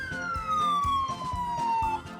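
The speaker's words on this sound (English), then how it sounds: "Sirens wailing" Emergency vehicle sirens wail loudly and close, a falling tone sweeping down over about two seconds above a pulsing, repeating siren pattern and traffic rumble.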